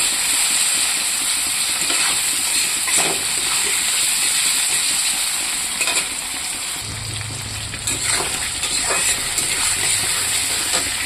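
Tomato frying with well-browned onions in a pan gives a loud, steady sizzle with constant hiss and occasional stirring clatters and scrapes, close up.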